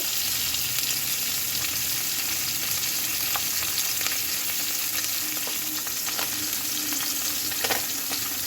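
Bhetki fish frying in oil in a pan, a steady close hiss and sizzle with a few faint clicks, no voices.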